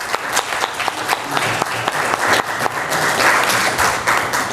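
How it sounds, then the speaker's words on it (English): Applause at a Carter County, Tennessee commission meeting, a room of people clapping for several seconds, sharp individual claps audible in a moderately sized crowd, steady and fairly close. "I think you deserve a round of applause."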